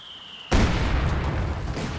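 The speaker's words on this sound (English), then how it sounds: "So we're having like a little bit of a mortar barrage." A mortar barrage strikes in the World War II strategy game Company of Heroes 2, with a sudden loud blast followed by dense, sustained rumbling and crackling debris.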